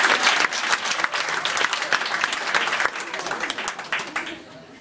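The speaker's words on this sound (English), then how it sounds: "Give him another big round of applause" Loud sustained applause from a live audience after an a cappella group's set, dense clapping throughout that slowly tapers toward the end.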